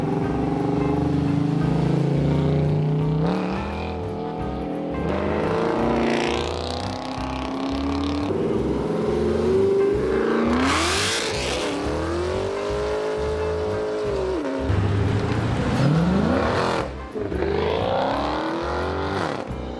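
Large V6 and V8 car engines roar as they pull away from a traffic light in Florida, rising and falling in pitch through repeated loud revving passes and gear changes, close by with no talk.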